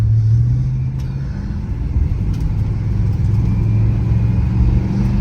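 A 1967 Chrysler 300 rounds a corner at low speed, its engine giving a steady, loud low rumble throughout with no talking.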